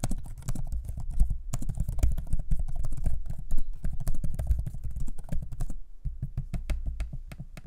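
Typing on the keyboard of an MSI Katana 15 B12V laptop: a steady stream of close, crisp key clicks with a few brief pauses, no talking.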